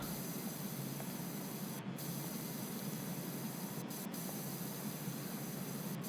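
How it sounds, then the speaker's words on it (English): A pressure washer hisses steadily in PowerWash Simulator 2, a broad continuous spray with brief breaks when the trigger releases, with no voices. "Let's give these a quick spray off here."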